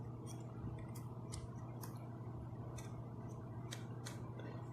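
Headband adjuster of EPOS C1 headphones, a wired USB-C model, clicking in steps as it slides: several faint, close clicks spaced irregularly over a steady low background hum.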